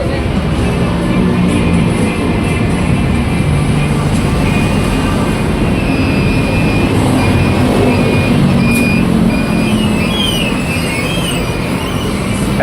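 A TransJakarta Corridor 14 bus, a 2024 Laksana-bodied VKTR, pulls in with a loud, steady mechanical roar and high whine, accompanied by brief squeals near the end.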